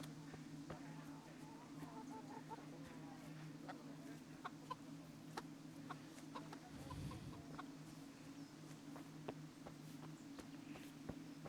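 Chickens cluck in the medieval village of the video game Kingdom Come: Deliverance, soft scattered calls over a steady low ambient hum, with faint footsteps and no talk.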